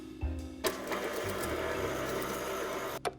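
An electric mixer runs steadily on low speed through a pumpkin bread pudding batter with oil and vanilla, a continuous whirring drone with a few knocks and clatters against the bowl before cutting off near the end.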